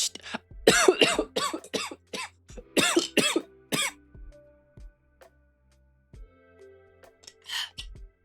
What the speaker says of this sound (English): I started coughing